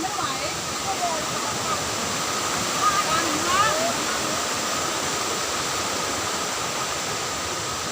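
Phlio waterfall in a national park in Chanthaburi roars in a steady, dense, continuous rush of falling water, loud and close, with faint voices under the noise.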